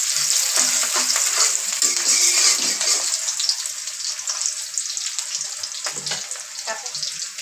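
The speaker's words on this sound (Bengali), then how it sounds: "পেঁয়াজটা একটু লাল লাল করে ভেজে নেব" Onions frying in a pan for fried rice sizzle loudly up close, a dense crackling hiss broken by scraping stirs that eases slightly toward the end, with no speech.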